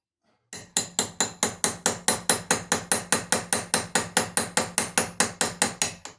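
Repeated sharp metallic chops as a knife strikes through a small nail, about two dozen crisp, evenly spaced impacts in quick succession, close and loud.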